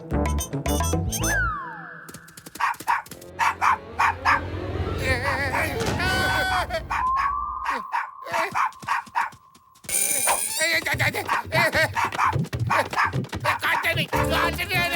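A dog barks repeatedly amid a busy cartoon soundtrack, sharp yips and bow-wows mixed with music, sound effects and voices talking throughout.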